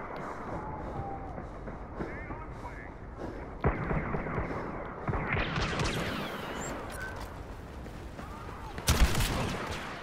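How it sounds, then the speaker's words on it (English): A smart rocket fires in the Star Wars Battlefront Drop Zones mode: a sharp launch burst followed by a rising whoosh, amid scattered gunfire and game ambience, ending in a loud blast. "Fire smart rocket."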